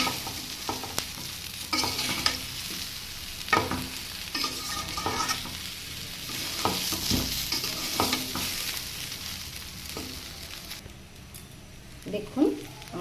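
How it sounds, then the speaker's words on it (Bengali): Bottle gourd, hog plum, rice and lentils for bhuna khichuri being stirred and fried in a pan, with a steady sizzle broken by repeated scraping strokes of a spoon, close and moderately loud, with a voice speaking at times. "এটা খুব সাবধানে নাড়াচাড়া করতে হবে"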